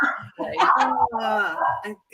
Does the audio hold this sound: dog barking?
yes